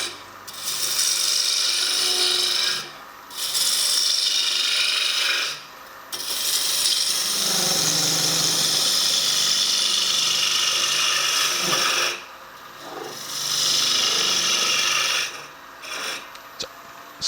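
A roughing gouge cuts wood on a lathe while a spinning top is turned, giving long, loud, rasping scraping passes broken by brief quiet gaps as the tool lifts away.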